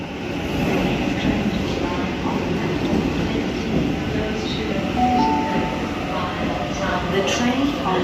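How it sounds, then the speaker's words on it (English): A Sydney suburban Leppington service rolls into a platform at Central station with a continuous loud rumble of wheels and carriages and faint squeals, while people talk over it. "And there's a Leppington service arriving"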